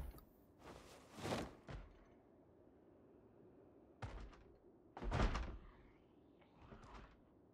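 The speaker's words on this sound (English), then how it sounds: "We've got people banging on the front door" Heavy thuds of zombies banging on a front door in Project Zomboid, a few loud irregular knocks in two clusters with quiet gaps between, no talking.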